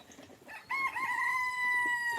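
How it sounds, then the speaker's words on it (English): A Silkie rooster crows once outdoors, starting after a brief quiet lead-in and holding a long, clear, fairly close call that carries to the end. "You hear that silky crowing? That's a little silky."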